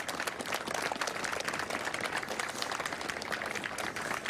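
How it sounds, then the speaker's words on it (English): A crowd claps steadily outdoors at the U.S. Capitol, dense overlapping applause from many hands sustained at a fairly even level throughout, with no voices standing out. "can hear folks clapping now."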